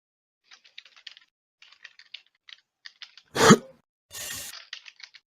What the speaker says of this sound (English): Start typing madly.